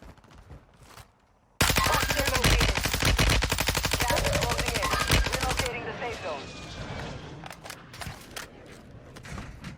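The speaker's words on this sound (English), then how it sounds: "He's getting sniped at" Gunfire in a video game: a loud, dense volley of rapid shots hammers for about four seconds, then drops away into quieter background game noise.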